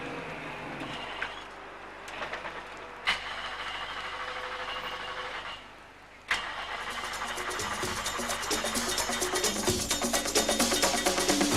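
A flooded Ford Mustang rally car on a TARGA Tasmania start line sputters through repeated cranking and catching bursts, then roars into steady, rising engine noise close by.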